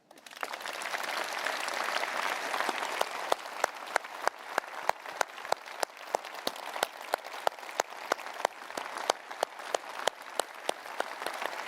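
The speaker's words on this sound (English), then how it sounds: "Please applaud yourselves." A party conference hall audience applauds at length, broad crowd clapping with sharp, regular rhythmic claps standing out as the ovation continues.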